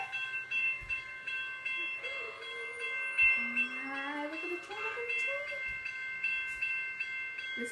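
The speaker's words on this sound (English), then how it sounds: "Can you hear the train?" A train passes at night in Maine: a steady rumble and rolling rail noise with high squealing tones and a brief rising horn-like sound, moderately loud at a middle distance, with faint voices nearby.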